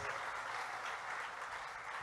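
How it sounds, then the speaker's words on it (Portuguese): A church congregation applauds at a Portuguese-language service, a steady dense wash of clapping held at an even level throughout with no voices over it. "Dá um aplauso ao Cordeiro que fez você membro da família de Deus"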